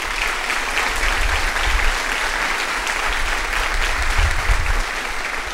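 A church congregation claps for Jesus during a Portuguese-language Sunday service, a steady, full burst of applause from many people with low rumbling underneath, continuing throughout.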